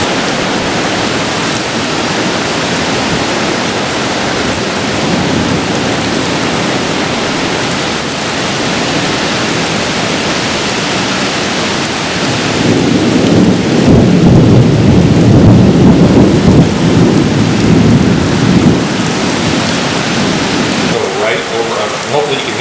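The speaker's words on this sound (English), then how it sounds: "Sideways rain." Heavy sideways rain and thunder from a thunderstorm pound a riverside campsite among trees, a loud steady roar throughout that swells heavier midway, with distant rumbles and things falling from the trees.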